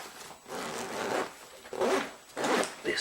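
A zipper on the main compartment of a Maxpedition bag is drawn open in three long, close, rasping pulls with brief pauses between them.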